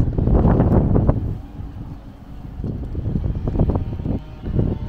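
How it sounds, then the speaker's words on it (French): Strong coastal wind at a port buffeting the microphone in heavy, low rumbling gusts that rise, ease briefly, then surge again, loud and close throughout. "C'est pas possible, il y a trop de vent."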